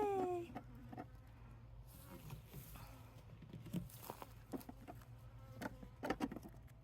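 Honeybees swarming out of a hive box during syrup feeding, a faint, quiet buzzing and scattered light patter with a few brief louder insect passes near the end, no voices.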